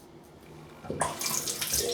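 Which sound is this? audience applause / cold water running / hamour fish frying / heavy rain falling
cold water running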